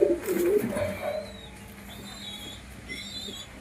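Low, soft cooing from a pair of flying-line pigeons, strongest in the first second, then fading into a quiet background with faint thin whistles. No one speaks.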